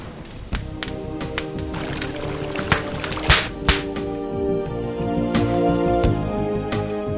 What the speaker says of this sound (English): Then he poured the dust into a barrel of hot water.